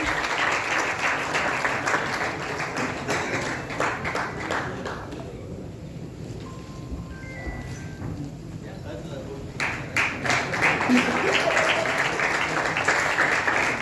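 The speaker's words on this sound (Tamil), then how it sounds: "ஒரு பலத்த கைத்தட்டலோட லெட்ஸ் வெல்கம்" Loud audience applause with many hands clapping throughout, briefly thinning in the middle before swelling again, with a voice faintly audible beneath.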